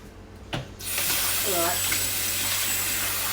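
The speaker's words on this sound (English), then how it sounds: "Let me just check what I've got while I let the water get hot." Hot tap water running steadily into a kitchen sink, a continuous close hiss that starts after a brief clatter and holds to the end.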